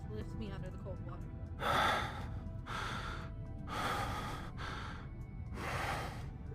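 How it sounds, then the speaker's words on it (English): Close, intimate breathing right at the ear: several slow, airy inhales and exhales in a steady rhythm over a low background hum, with one sharper breath near the start. "Okay, breathing in my ear."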